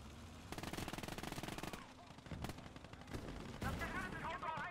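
Rapid machine-gun bursts rattle in Call to Arms - Gates of Hell, a steady stream of shots followed by scattered single cracks and heavier booms amid battle noise, with players talking underneath.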